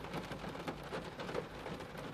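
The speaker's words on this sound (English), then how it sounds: "if at least it would stop raining" Rain falling outdoors during roadside work on a Volkswagen Golf 1.9 TDI, a faint, steady, even hiss with no voices over it.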